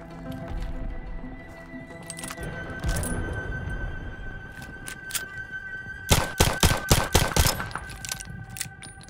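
Machine gun fire in Call of Duty: Vanguard during the Battle of El Alamein: scattered shots and battle noise, then a loud, rapid burst of evenly spaced rounds near the end, with a steady background tone.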